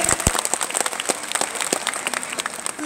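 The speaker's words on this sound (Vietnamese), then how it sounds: "Một tràng pháo tay nữa anh chị." A dense, crisp burst of audience clapping at a Generali product launch on stage, loud and close, with many individual claps standing out from the crowd.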